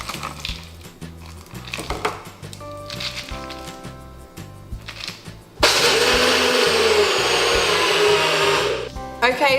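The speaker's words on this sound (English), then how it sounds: "we're going to blend them up with the NutriBullet" A NutriBullet blender grinding roasted cashews: a few short rattling pulses, then a loud, steady, close-up whir that holds for several seconds before cutting off.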